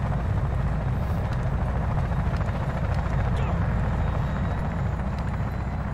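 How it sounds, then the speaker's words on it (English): Helicopter in the military shooter game Arma 3, a loud, steady rotor and engine roar filling the whole stretch with constant, dense thrumming and no break. "let's head for the chopper"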